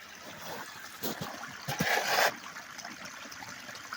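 Spring runoff water flows through a small ravine, a soft steady trickle with a brief louder splashing surge midway, heard outdoors with no talking.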